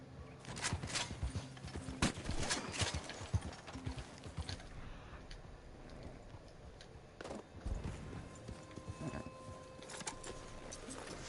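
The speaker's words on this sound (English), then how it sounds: "I could just hop on the horse and go right there." Horse hooves clip-clop in the Red Dead Redemption 2 video game, an irregular series of sharp thuds and clatters in bursts with a quieter gap, fairly faint, and no talk over them.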